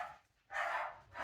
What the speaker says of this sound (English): the dogs are going mad because I don't know if somebody's come back